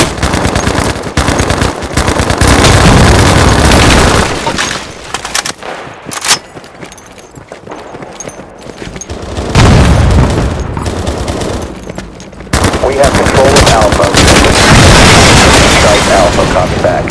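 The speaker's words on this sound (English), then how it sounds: "Bravo is receiving enemy fire." Heavy gunfire and explosions fill a Battlefield Mobile match: loud bursts of machine-gun fire and booms come in dense waves with short lulls between, and game voices can be heard.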